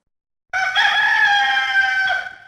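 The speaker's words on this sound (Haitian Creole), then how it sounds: "Coq la chanté" A rooster crows once, loud and close, a long sustained call lasting about two seconds after a brief silence.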